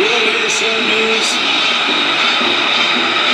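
At an airshow, an airplane engine drones loud and steady through a low-level aerobatic display. The roar stays constant throughout, with a faint whine riding on top.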